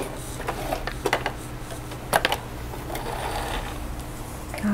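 A sewing machine backstitches along bias binding on a dish towel: short clustered mechanical chattering bursts over a steady low motor hum, fairly close and without talk.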